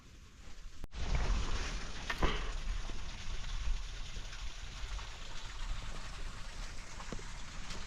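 Water trickling beneath a frozen waterfall in a snowy canyon on a Nordic ski trail, a steady soft broadband rush that starts abruptly after a brief quiet moment and continues evenly, with no talking.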